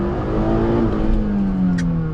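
A Honda City with coilover suspension launches on a rain-wet road with wheel spin, its engine revving hard and steadily, with a rising whine and faint tire noise, loud and close throughout.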